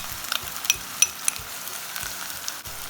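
Ginger, garlic and dark soy sauce sizzling in a pan of caramel for chicken, a steady hiss with light stirring taps and a few faint metallic clinks.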